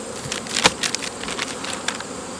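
Honeybees buzz around their hives, a continuous close-up hum with individual bees zipping past the microphone in quick passes.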